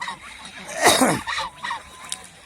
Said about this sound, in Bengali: তারা আজকে এই হাঁস নিয়ে চলে যাবে